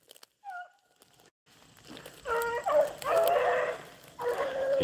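Beagle hounds trailing a rabbit in the field, giving a few distant yips and then a run of barks and bawling that grows louder and more continuous.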